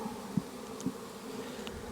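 Honey bees buzz in a steady, low drone around an opened hive, with a few soft knocks of equipment in the foreground and no voices.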